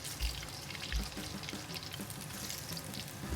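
Dried chili and Sichuan peppercorns stir-fried in a wok, a steady, close hiss and sizzle with soft low knocks of the spatula against the pan.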